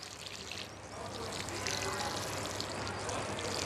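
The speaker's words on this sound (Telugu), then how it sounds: "పాట్లో నీళ్ళు లేదు కాబట్టి ఫుల్గా నీళ్ళు నింపేసుకుందామండి." Water pours into a tomato plant pot during repotting, a steady splashing trickle that grows slightly louder and fuller partway through, close by with no talking.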